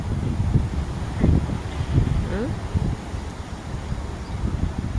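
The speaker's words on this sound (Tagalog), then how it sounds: "Lakas ng hangin, oh." Strong outdoor wind buffets the microphone in low, rumbling gusts, with rustling and faint background sounds carried along, steady throughout.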